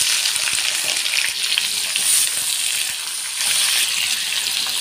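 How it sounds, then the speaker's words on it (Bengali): Chopped onions frying in hot oil with whole cumin, bay leaf and dried chilli make a loud, continuous hissing sizzle that stays close and steady throughout, with slight swells as they are stirred. "পেঁয়াজগুলো খুব ভালো করে ভেজে নেব।"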